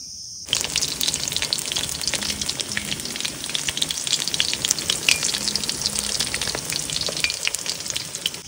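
Bhetki fish pieces sizzle steadily in hot oil in a pan, a dense, even crackle that starts abruptly and holds at close range with no voices.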